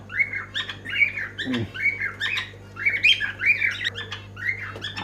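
Birds, including finches and doves, squawk and chirp repeatedly in a pigeon and bird shop, with a busy overlapping chorus of close calls over a low steady hum.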